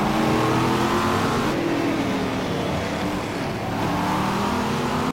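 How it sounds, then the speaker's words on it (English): A train of race cars rolling through the pit lane at Velopark during a GSC2012 round, loud continuous engine drone with shifting pitch as cars pass close by, no talk. "Whole train of cars in pit lane."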